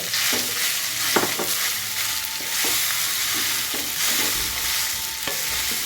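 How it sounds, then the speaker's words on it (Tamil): Cooked rice being stirred into a sesame mixture in a hot pan for ellodharai, with steady sizzling under repeated scraping strokes of the spoon, close and clear. "நம்ம சாதத்தை அதில் போட்டு கலருங்க ம் அப்படி பண்ணுவோம் சுட சுட"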